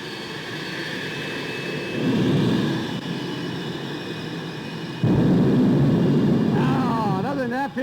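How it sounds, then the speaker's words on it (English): The American Thunder jet truck's jet engine roars loud and broadband, with two sharp surges of power, and a voice can be heard over the blast. "The American Thunder jet truck."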